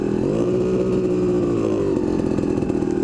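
A Kawasaki KDX250 dirt bike engine winds up and holds a loud, buzzing high rev on a trail, rising slightly in pitch and then easing, close and continuous.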